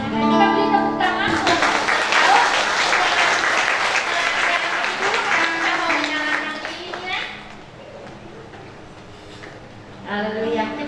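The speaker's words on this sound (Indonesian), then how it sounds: "Kita beri tepuk tangan." Loud, sustained applause from a congregation at a church thanksgiving service for a pastor's 80th birthday, running for several seconds before fading, with crowd noise and brief singing-like voices at the start and end.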